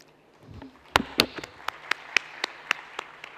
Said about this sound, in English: Applause for the woman here.